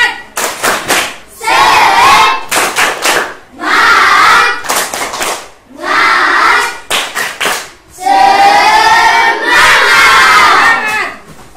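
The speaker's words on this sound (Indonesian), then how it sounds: "Tepuk semangat." A classroom of students performs an Indonesian 'tepuk semangat' spirit clap, with quick rhythmic bursts of hand claps alternating with loud group shouts and chants, repeating in several close, energetic rounds.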